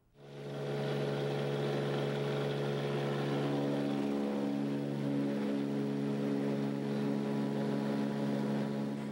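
A small propeller plane flies low beneath a dropping cloud ceiling along the Aleutian island shoreline in Alaska, its steady engine drone and propeller hum sounding loud and continuous throughout, with no talking.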